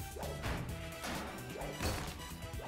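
Objects shatter in DuckTales Remastered's mine level on Hard Mode, with a quick series of loud crashing smashes and thwacks about every half second and no talk.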